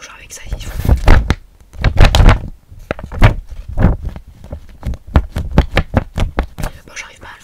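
A voice imitates a heartbeat with soft, breathy, whispered syllables in a repeating double-beat rhythm, close to the microphone, interleaved with quiet whispered speech.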